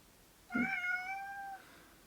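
One clear, drawn-out meow from a nearby cat, rising then holding steady for about a second in an otherwise quiet room.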